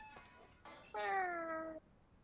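A cat meows in Vampire: The Masquerade - Bloodlines, with a couple of short faint mews followed by one longer, clear, drawn-out meow with no talk over it.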